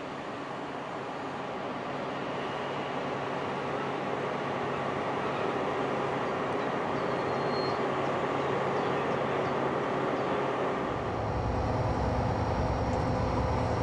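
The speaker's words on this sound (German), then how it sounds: "Einfahrt in den Bahnhof Dorfen. Am Haken ein moderner Doppelstockwagen-Wendezug." A DB class 218 diesel locomotive hauling a double-deck push-pull train rumbles steadily as it enters Dorfen station, a broad continuous roar of engine and wheels that deepens and grows louder near the end.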